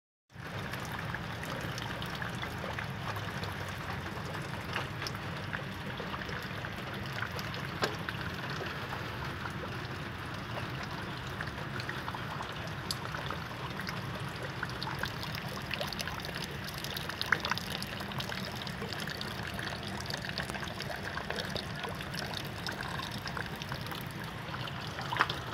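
Steady rushing river flood water roars continuously throughout, a dense, loud wash of flowing water in East Java, with no talking.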